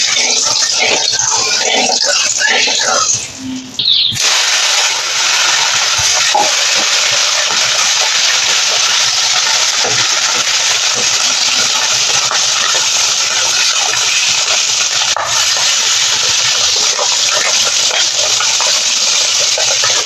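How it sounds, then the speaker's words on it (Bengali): Pakal fish frying in a pan, a loud continuous sizzle and hiss that stays steady and close after a short quieter opening. "এবার মাছগুলোকে ভেজে নেব।"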